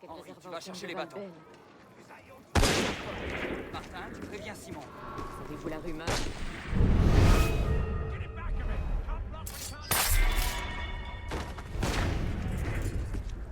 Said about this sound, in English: These guys shooting all the time.